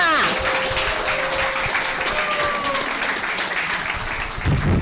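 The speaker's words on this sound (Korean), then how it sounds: "열렬한 박수로 모시겠습니다." Warm applause from a seminar audience greeting a guest speaker, a sustained crowd of clapping with brief tonal sounds early on, fading slightly near the end as a voice starts.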